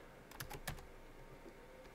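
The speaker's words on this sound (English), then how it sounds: "when you hit a cell, you can just type in on the keyboard of the device" Quick taps on the small built-in keyboard of a handheld wireless barcode scanner, a short cluster of soft clicks close by that then tapers into faint room noise.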